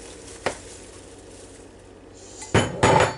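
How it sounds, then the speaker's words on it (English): Ambrosia fruit salad with cherries and marshmallows being stirred in a bowl: a sharp utensil knock near the start, quiet shuffling, then two louder scraping clatters at the end. "We get all this stirred up."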